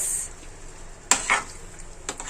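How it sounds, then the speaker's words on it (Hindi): Coarsely cut tomatoes, onion and capsicum being stirred together in a pan for paneer tikka masala: a faint steady sizzle with a sharp spoon knock and a couple of scraping stirs, close by. "तो इसको भी हम इन्हीं के साथ डाल के अच्छे से कर लेंगे हम लोग मिक्स।"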